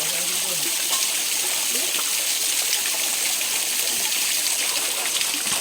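Stream water pours down as a free outdoor shower in a rural stream setting, making a continuous bright splashing hiss that stays constant and fairly near.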